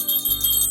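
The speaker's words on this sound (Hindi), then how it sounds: "आप ना ये घंटी बजा देना ऐसे" A small hand bell rings with bright, sustained metallic tones, struck once or twice in quick succession and heard close and clear, with no talking over it.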